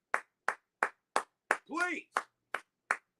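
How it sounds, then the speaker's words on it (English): One person claps for basketball player Jayson Tatum, about nine sharp, evenly spaced claps in a steady rhythm, close to the microphone, with a brief spoken word breaking in partway through. "Give a round of applause for Jason Tatum."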